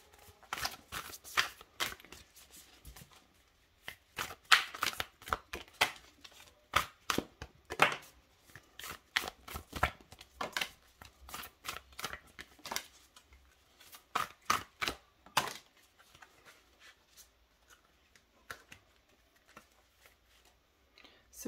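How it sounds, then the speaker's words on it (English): Deck of astrology cards being shuffled by hand, a long run of rapid riffling and flicking bursts close to the mic, with brief pauses between handfuls and no voices. "let's just grab some astro cards before we jump in"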